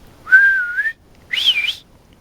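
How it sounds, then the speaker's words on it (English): Two short whistled notes, the second higher and wavering, with a brief pause between them, clear and close. "It was like a whistle almost."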